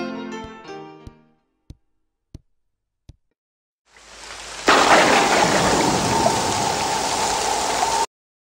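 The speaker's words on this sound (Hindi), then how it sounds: "बहुत ज्यादा बारिश हो रही है बाहर।" Heavy rain pours outside in a dubbed Hindi film scene, fading in after a few musical notes and isolated ticks, then swelling into a loud, dense, steady hiss that cuts off abruptly.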